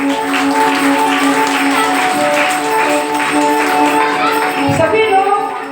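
A crowd claps at a religious gathering honouring Gopeshwar Mahadev on the Yamuna bank. Dense, steady applause runs under sung devotional music for several seconds, then thins out near the end.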